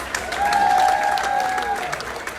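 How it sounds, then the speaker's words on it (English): Applause fills a room at a New York charity auction and paddle raise, a steady burst of crowd clapping with a whistle-like tone riding over it for about two seconds. "Give yourselves a round of applause"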